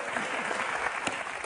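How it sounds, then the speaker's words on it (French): Applause from a small group, a dense steady patter of claps lasting briefly and fairly close, with no voices on top. "Il n'a pas entendu mes applaudissements"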